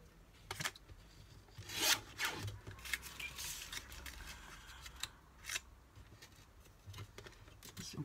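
Scissors snip and rasp through paper being cut for a handmade Christmas card, soft close crisp cuts in short irregular strokes with quiet pauses between.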